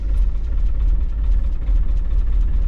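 A diesel engine with glow plugs runs steadily while the vehicle is driven at a camp outing. It makes a loud, continuous low rumble and vibration heard from inside, with no voices.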